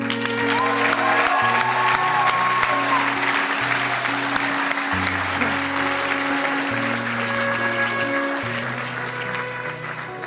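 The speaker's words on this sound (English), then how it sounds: "Let's give a round of applause one more time for Rocky Lynn." A crowd at an event honoring troops and veterans applauds steadily for about ten seconds, the clapping dense and sustained over music playing in the background, easing slightly toward the end.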